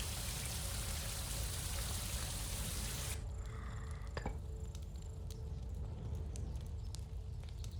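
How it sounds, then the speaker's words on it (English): Rain hisses steadily in a shipwreck survival video game, a dense wash of falling water that abruptly thins after a few seconds into scattered drips and faint tones, quiet and without voices. "it's rain"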